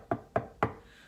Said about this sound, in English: Mr. Wolf knocked on the door.